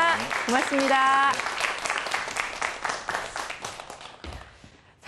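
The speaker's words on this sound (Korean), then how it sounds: "오늘 너무나 멋진 강연 해주신 우리 교장 선생님께 다시 한번 큰 박수 보내주시기 바랍니다" Audience applause for a school principal after a lecture on mathematics, loud dense clapping that tapers off over several seconds while a host speaks over it.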